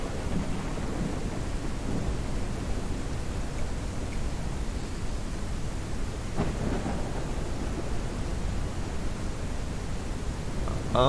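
A thunderstorm in the Ranch Simulator video game: a steady, loud hiss of heavy rain runs throughout, with low rolling thunder rumbling underneath and no voices.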